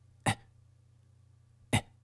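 Two short, soft coughs imitated by a voice, each a brief breathy burst about one and a half seconds apart over a faint steady hum, with no other talk.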